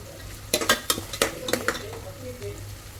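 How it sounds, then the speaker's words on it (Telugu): Chopped onion fries in a pan for a jackfruit seed mutton curry, a spoon scraping and clacking against the metal in a quick burst of stirring over a soft, steady sizzle. "కొంచెం కలర్ వచ్చే వరకు ఫ్రై చేసుకోవాలి"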